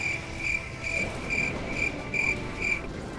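Crickets chirp in steady, evenly spaced pulses, about two per second, bright and fairly close against a low background rumble.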